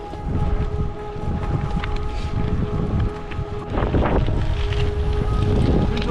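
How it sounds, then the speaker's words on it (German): Gusty wind in the Scottish Highlands buffets the microphone over a low engine hum, roaring and rumbling unevenly throughout. "Ist schon ein bisschen windig hier"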